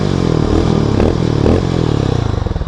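Loud, close idle of a Hero Mavrick 440 single-cylinder motorcycle exhaust, a steady deep thumping beat with brief blips of revving, no voices over it.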